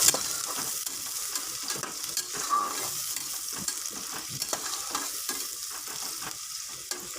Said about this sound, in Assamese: এতিয়া মই অলপ সময় পিঁয়াজখিনি ভাজ খাব দিম